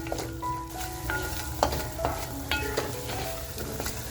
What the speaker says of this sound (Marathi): आपल्याला मसाला आहे ना खमंग फ्राय करून घ्यायचा आहे